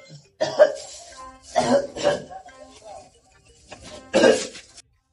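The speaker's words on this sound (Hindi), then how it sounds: "यार खांसी तो बहुत हो गया," Several harsh coughs and throat clearings in short bursts, close to the microphone, with brief pauses between them.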